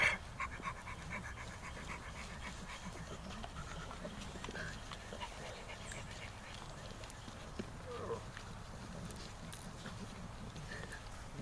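Teething puppies pant and scuffle while playing nearby, soft rapid breaths and small movement noises running throughout at low volume, with a person speaking intermittently.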